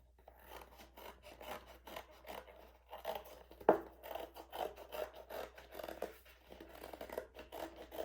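Scissors snip out a paper flower or garden shape for a kindergarten Mother's Day craft, giving quiet rasping cuts in a steady run up close, with one sharper crunch partway through.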